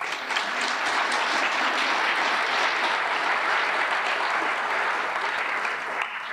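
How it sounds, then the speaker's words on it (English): An audience at a junior honor society induction ceremony claps steadily, a dense, sustained wash of applause from many hands with no voices standing out. "I would like to have a round of applause for the friends and family of the inductees."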